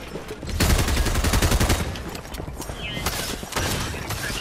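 Loud rapid gunfire in a ranked video game match, a dense burst of shots up close that eases into scattered reports and lighter game sounds.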